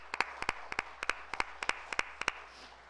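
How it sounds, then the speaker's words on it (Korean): A church congregation claps in a crisp, regular rhythm of paired claps to encourage deacons who set up and dismantled equipment in the cold, with nothing else heard beneath the clapping. "우리 집사님들 위해서 한번 격려의 박수 한번 보내겠습니다"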